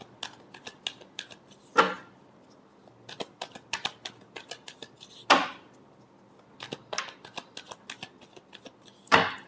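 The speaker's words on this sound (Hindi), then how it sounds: "Last shuffle." Tarot cards are shuffled by hand in a quiet room, a rapid run of crisp riffling snaps punctuated by a few louder slaps as the deck is squared, close and without talk.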